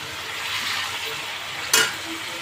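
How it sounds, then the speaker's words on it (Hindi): Paneer frying lightly in a pan gives a soft, steady sizzle, interrupted near the end by one short, sharp clatter. "थोड़ा हल्का फ्राई कर दूँगी, थोड़ा ये लाल हो जाएगा"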